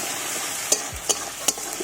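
Green chilies and tomato fry in a pan with a steady sizzle, broken by three sharp spoon scrapes and knocks against the metal at even intervals.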